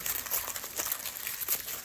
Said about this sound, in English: I love the paper. It's like flower tissue paper.